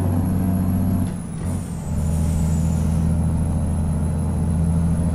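Loud heavy truck engine droning steadily in American Truck Simulator, with its pitch shifting around one to two seconds as the engine brake engages, then holding a deep, even rumble.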